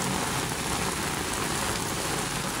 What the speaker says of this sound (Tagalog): lakas ng ulan dun sa malayo